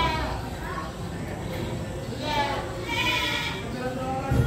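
Sheep bleat several times at a busy livestock market, wavering calls rising over ongoing talk and crowd murmur.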